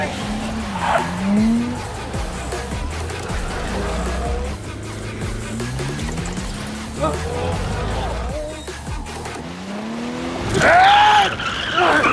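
A car chase in a Hindi-dubbed Bollywood action film, with roaring race-car engines and repeated screeching tire skids and squeals, loud and close, while voices speak over the action.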